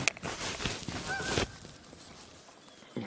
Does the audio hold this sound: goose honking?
yes